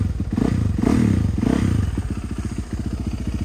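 An ATV or dirt bike engine idles close by just after starting, a loud, steady, rapid putter with slight surges and some mechanical clatter, with no talk.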